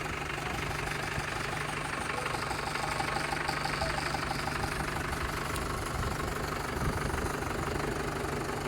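A 2012–13 Mahindra 475 tractor with new gear and hydraulic oil idles close by, its diesel engine giving a steady, even rumble with a faint knocking pulse, running alone without talk.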